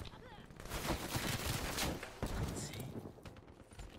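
Game gunfire from Call of Duty Black Ops 3, a dense continuous rattle of shots and impacts mixed with game noise, fairly faint and steady across the few seconds.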